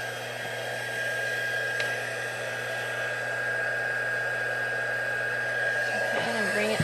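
A loud heating tool blows hot air onto material until it melts, a steady, close hiss with a constant hum that holds unbroken to the end, with no talking.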